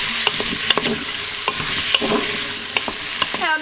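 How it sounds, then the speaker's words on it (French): Meat, onions and vegetables fry and sizzle in a pan while being stirred, with steady close crackling and repeated scraping strokes of the utensil, no talk. "maintenant que ma viande et mes oignons sont dorés, ben, j'ajoute tous mes légumes"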